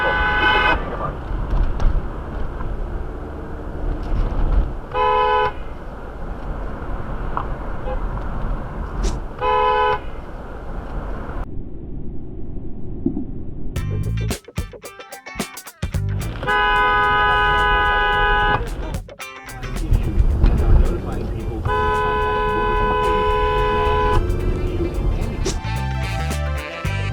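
Car horns honking at a busy intersection, repeated long and short toots layered over steady road traffic, loud and close, with a few brief cuts between honking bursts.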